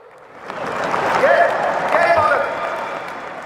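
Audience at a political speech by a politician bursts into applause, clapping swelling up after half a second and holding loud and dense, with a voice calling out over it before fading slightly at the end.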